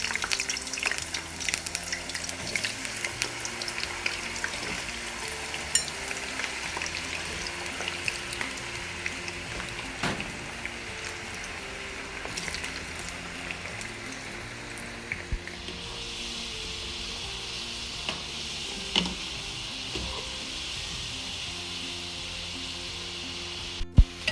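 Potatoes frying in hot cooking oil give a steady, soft sizzle with faint crackles and small pops, continuing without any talk and growing a little brighter partway through.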